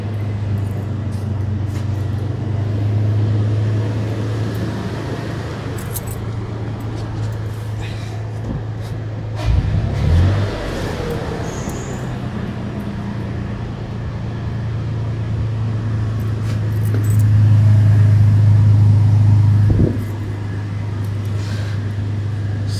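An engine with 175 PSI compression, sputtering and running rough, idles steadily, then revs up in two louder bursts, one brief near the middle and a longer one later, up close with someone talking over it.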